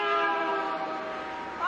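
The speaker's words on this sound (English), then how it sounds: "The only thing that does work is this lousy horn." A car horn blares in one sustained, loud, slightly wavering tone lasting under two seconds, with no other sounds around it.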